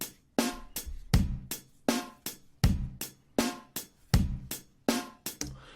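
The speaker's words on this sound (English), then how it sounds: "the most common basic version of this is 8th notes on the hi-hat" Basic programmed drum beat from a step sequencer, with steady eighth-note hi-hat over kick and snare, looping evenly and clearly with no talking.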